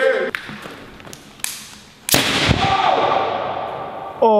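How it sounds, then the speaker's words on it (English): A homemade potato cannon fires inside an abandoned warehouse, giving one loud sharp blast midway that rings out with a long echoing decay, preceded by a few smaller thumps, with people talking around it. "Yeah, we made a potato cannon."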